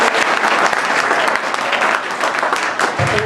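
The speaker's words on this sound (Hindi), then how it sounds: "ताली बजाते रहो बेटा, ताली।" Loud, dense applause from a crowd at a council gathering, continuous rapid clapping close by, with voices faintly mixed in.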